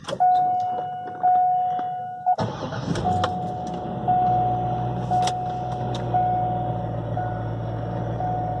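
A supercharged C5 Corvette starts up on a test drive with a chiming warning beep and a sudden engine roar that settles into a steady close rumble, the chime continuing intermittently.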